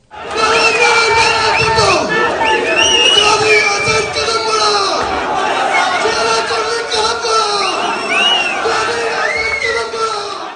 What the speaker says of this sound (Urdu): روایتی نعرے بازی نے یوم پاکستان کی اس تقریب کو پرجوش بنا دیا۔